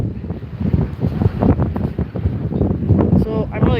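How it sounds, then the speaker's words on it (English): Outdoors beside a food truck, wind buffets the microphone in gusty low rumbles while a person talks over it almost the whole time. "Hopefully this isn't too windy for you"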